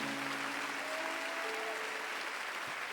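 Steady, dense applause from a church congregation fills the space evenly throughout, with a faint voice or tone briefly audible beneath it.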